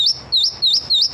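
A small songbird, apparently a young AR 15 chick, gives four bright rising chirps at a steady rhythm, close and clear, with no talking.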